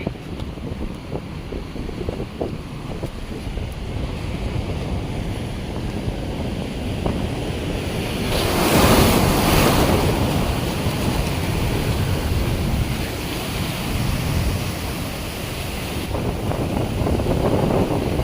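Rough sea waves surge against a rocky shore at Amboḷgad, a constant roaring wash with one louder crashing swell midway, heavy wind buffeting throughout.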